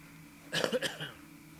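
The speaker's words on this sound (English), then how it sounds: "Man, can't wait for that cough to go completely away." A single short cough with a throaty, phlegmy edge, close and fairly quiet against a faint background hum.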